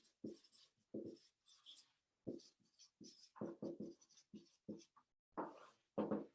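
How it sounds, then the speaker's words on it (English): Close, scratchy strokes of a pen or marker writing out the words naming enzymes, in short irregular bursts separated by brief pauses, with no talking. "So let me just write naming enzymes."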